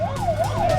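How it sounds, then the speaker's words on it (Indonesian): Ambulance siren wailing at an attack scene in Gaza, a loud rising-and-falling electronic tone sweeping in a steady cycle over low vehicle rumble. "Sementara ambulans berdatangan untuk membawa korban ke fasilitas kesehatan terdekat."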